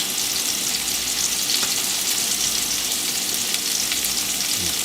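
Hamburger frying in a pan gives a steady, loud, close sizzle that hisses evenly throughout, with no voices over it.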